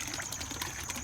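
A pump-fed sprayer splashing water into a backyard fish pond on a foggy morning, a continuous close rushing, gushing spatter that stays even throughout.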